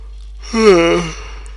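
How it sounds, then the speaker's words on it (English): A person lets out a drawn-out yawn, voiced and close, rising then falling for about half a second, alone with no talk over it. "Stop yawning"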